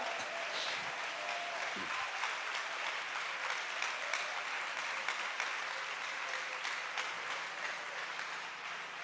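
A church congregation at a Spanish-language worship service applauds in a steady, sustained roar of many hands for about nine seconds. The clapping stays fairly loud and even, with no speech over it.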